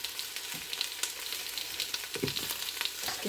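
Mushrooms sizzle and fry with onions in a pot inside a Ninja 15-in-1 cooker while being stirred, giving a steady hiss broken by soft scraping and clattering stir sounds, close and with no voices.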